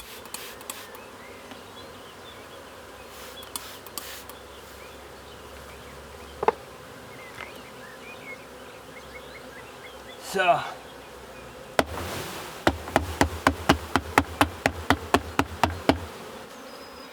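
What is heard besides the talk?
honeybees buzzing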